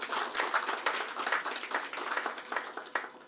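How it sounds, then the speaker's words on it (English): Audience round of applause at a corporate investor presentation, a steady, moderately distant patter of many hands clapping with no talk. "I think they deserve a good round of applause"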